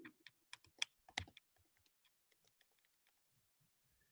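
Quiet keystrokes on a computer keyboard as a password is entered, a quick burst of taps at first, then sparser, fainter presses trailing off, heard close and alone.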